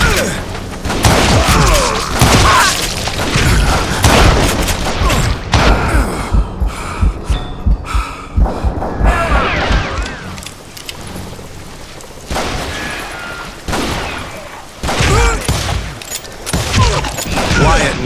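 Gunfire rings out in the Western shooter game Call of Juarez: Gunslinger, with loud repeated shots and booming blasts crowding the whole stretch, mixed with game effects and talking.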